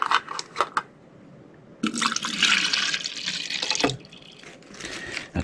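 Chilled water pours from an Old Ranch jar in a steady splashing stream for about two seconds, with brief clinks and handling sounds before and a softer trickle after.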